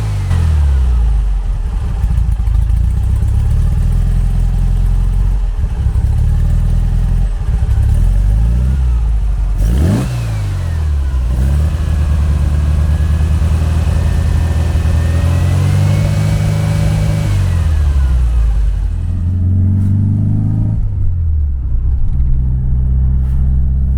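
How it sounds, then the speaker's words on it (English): A 1974 VW Beetle with a performance engine, loud and close, idling with a lumpy air-cooled burble, then revving up and pulling away through several gear changes before settling again. "you can hear by the idle there that things have definitely improved a lot"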